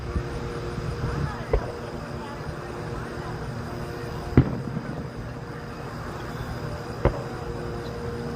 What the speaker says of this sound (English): Again, this is the fireworks in Leitchfield.